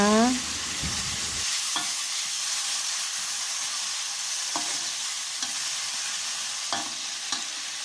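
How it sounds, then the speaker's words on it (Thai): Fried snakehead fish is stir-fried in a pan for a celery dish, with a constant frying hiss and intermittent scrapes and clinks of a utensil stirring the pieces. "แล้วก็พร้อมนำปลาที่เราทอดไว้ใส่ลงไปเลยค่ะ คนให้เข้ากันนะคะ"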